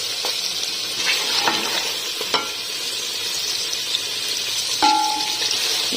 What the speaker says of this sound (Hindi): हमारा लहसुन अदरक फ्राई हो जाएगा, हमारे प्याज फ्राई हो जाएंगे